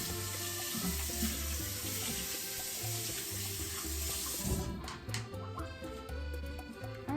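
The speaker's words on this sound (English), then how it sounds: "Now I'm gonna wash my hands" Water runs steadily from a kitchen tap while hands are washed under it, a close, continuous splashing hiss with uneven rhythm, and the flow shuts off near the end, with no talk.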